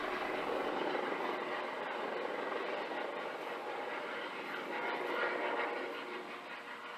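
Helicopter hovering near Insubong peak on Bukhansan, heard from a distant mountain ridge as a steady, broad whirring drone that holds fairly constant and fades slightly at the end.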